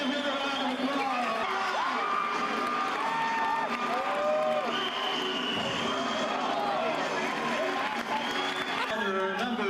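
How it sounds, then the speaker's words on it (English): Rodeo crowd in an arena claps and cheers steadily for a rider, a dense wash of applause with whoops and lots of voices mixed in throughout. "You better give him a round of applause."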